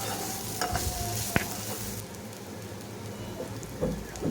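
Raw banana fry is stirred in a pan off the heat, with soft crackling and scattered spoon scrapes over a quiet, hissing background. No voices are heard.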